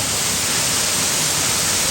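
A waterfall rushes at a scenic cliff site in Sakon Nakhon, Thailand, a steady, loud, broadband roar of falling water that fills the whole moment with no breaks or voices.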